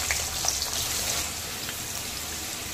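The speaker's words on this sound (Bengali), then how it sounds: "আবার এগুলোকে ভেজে নেব।" French fries are fried a second time in reheated hot oil, giving a continuous bubbling sizzle, close and fairly even, with slight crackles early on.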